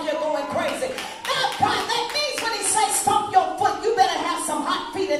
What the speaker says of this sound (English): you clap them like you're going crazy.